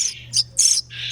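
Orphaned baby starlings giving several short high chirps in quick succession, close and clear over a faint low hum.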